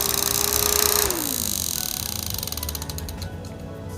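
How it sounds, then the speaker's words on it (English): An $8 rechargeable neck fan rattles up close as its propeller blade strikes the plastic covering. The steady buzzing, grinding noise comes with a motor whine that slides down in pitch, and no one speaks. "the propeller on it, is hitting against the actual plastic covering somehow, and causing it to make a bunch of noise"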